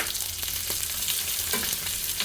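Small shallots, chopped onion, green chilies and curry leaves sauté for a tomato chutney, producing a close, continuous sizzle with light stirring through the brief moment.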